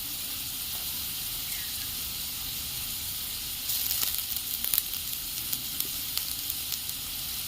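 Ginger paste hitting hot oil in a pan with fried potatoes gives a steady, close sizzling hiss, with a brief louder crackling flare partway through and scattered small pops after.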